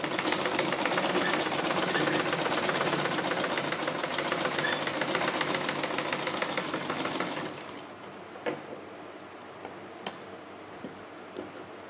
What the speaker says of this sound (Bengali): ঘুরিয়ে ঘুরিয়ে সেলাইটা করে নিলাম।